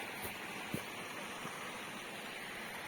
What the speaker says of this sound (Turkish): aşağıda dediğim gibi çok güzel bir dere akıyor.